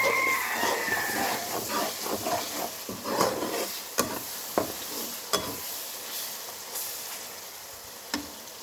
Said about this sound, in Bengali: জি রসুন, পেঁয়াজ, কাঁচামরিচ, লবণ দিয়ে একটু ভালো করে ভেজে নিচ্ছি।